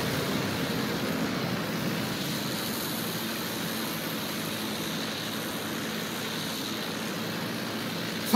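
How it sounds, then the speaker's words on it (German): An enemy airplane in Battlefield 1 drones steadily overhead, a continuous broadband engine roar held at an even, moderate level throughout with no speech. "Feindliches Flugzeug."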